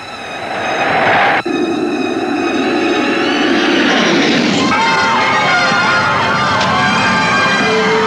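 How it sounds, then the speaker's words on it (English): Concorde jet coming in to land in the film Airport '79, a loud rising roar with a sharp thump and long whining engine tones, with voices talking over it. "the Concorde, Airport 79, came in for a landing"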